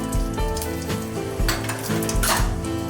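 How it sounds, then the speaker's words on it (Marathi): Mustard seeds splutter in hot oil in a kadai as stuffing for bread pakoda begins, giving a continuous close sizzle with bursts of crackling and occasional pan clinks. "कढईमध्ये तेल घालूया त्यात आपल्याला आहे मोहरी घालूया"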